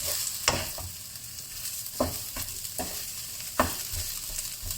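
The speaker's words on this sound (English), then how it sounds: "So lightly press the rice, then mix the rice," Laksa fried rice is stir-fried in a pan, a steady sizzle with a few sharp scrapes and taps of the spatula recurring every second or so, at moderate level with no voices.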